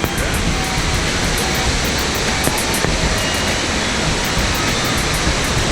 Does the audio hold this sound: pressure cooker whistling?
no